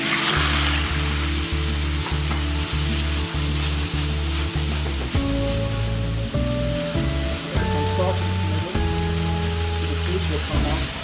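Tomato frying in hot oil for a tomato fried egg dish, a steady loud sizzle and spatter throughout, layered under a backing music track.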